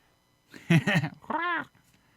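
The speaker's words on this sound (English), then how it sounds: "Oh, we got a kitty coming." A house cat meows twice close by indoors, a drawn-out call and then a shorter rising one, clear and fairly loud in an otherwise quiet room.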